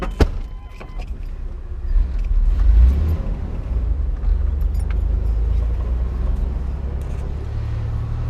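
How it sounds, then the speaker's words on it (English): A car passing by on the road near a driving Chevy pickup, a low rumble that swells and then holds steady at close range. "There's a car coming."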